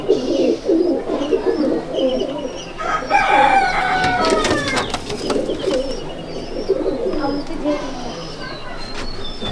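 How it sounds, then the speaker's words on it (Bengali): Pair of white Kamagar pigeons in a loft, cooing and calling amid other birds, with a rooster-like crow in the middle and someone talking throughout. "হোয়াইট কামাগার, হোয়াইট কামাগার জোড়াটা দেখুন"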